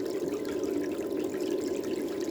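Water runs steadily through a homemade gold-cleanup sluice carrying black sand tailings with a little soap added, a constant close trickling rush with no talking.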